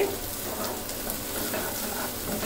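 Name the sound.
chicken bhuna being stir-fried in a pan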